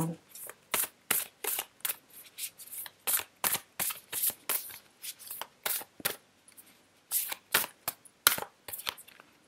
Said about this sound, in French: Déjà, en brassant les cartes comme ça, il y a la forme d'un escalier spiralé